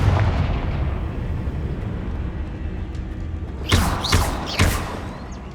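Confringo fire spells explode in the video game Hogwarts Legacy, landing as three sharp blasts in quick succession over a steady, dense game soundscape.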